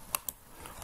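Computer keyboard typing for an AutoCAD command, two quick light key clicks close together followed by fainter taps, brief and close, no talk.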